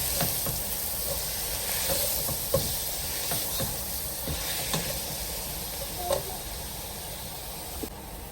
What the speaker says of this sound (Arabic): نحمسهم كلهم سوا